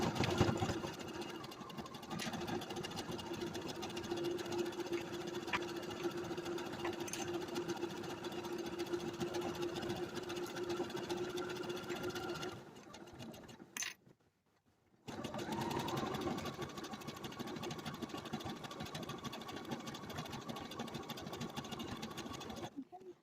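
Sewing machine stitching a color-block fabric band, a steady motor hum running continuously, stopping briefly for about a second, then resuming at the same even pace.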